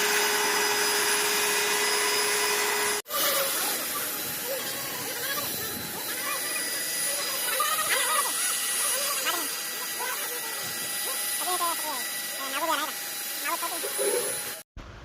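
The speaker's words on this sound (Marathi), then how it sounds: "या इलेक्ट्रिक मशीनच्या माध्यमातून आपण इकडे बघू शकता डाळ कशी हटणं चालू आहे" An electric machine whirs steadily as it mashes a large batch of cooked dal for a communal meal, its loud, continuous drone running under a voice throughout.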